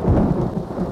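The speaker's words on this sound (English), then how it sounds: "The storm's definitely going away." Thunder from a storm in a Postman Pat cartoon rolls as a short, deep rumble with rain beneath it, fairly loud and heard alone.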